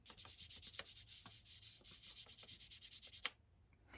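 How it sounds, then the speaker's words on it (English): Oil pastel being rubbed and blended on paper in a fifth-grade landscape resist piece: a steady run of quick, close scratchy strokes in a regular rhythm, then a sudden stop leaving faint rustle. "What I'm doing is I'm rubbing in the pastel that's sitting on the surface in addition to blending."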